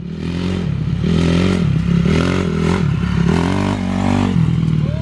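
Dirt bike engine revving hard during a wheelie attempt, its loud droning note rising and dipping in repeated surges, close and continuous throughout.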